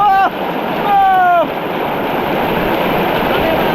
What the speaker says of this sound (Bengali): এই স্রোত উপভোগ করতে হবে দেখেন পানি আহ মনে আমার নিয়ে যাচ্ছে স্রোত